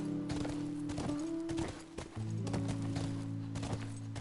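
Steady clip-clopping from a ridden horse's hooves in The Last of Us, repeating evenly over a sustained musical drone at moderate volume.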